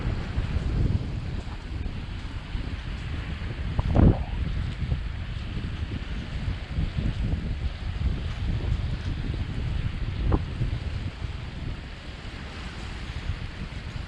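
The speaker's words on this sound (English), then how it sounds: "As you can see, the waves are getting bigger." Waves break on a sandy shore in strong wind, a continuous roar of surf and gusty wind buffeting the microphone, with a couple of sharper splashes.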